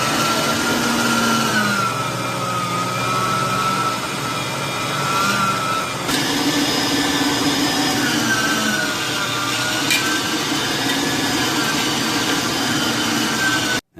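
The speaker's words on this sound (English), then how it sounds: "we're going to be grinding up the meat, the fat, as well as ice" Meat grinder grinding meat, fat and ice for banger sausages, a steady motor whine with gritty churning, close and loud, continuing without pause and without talk.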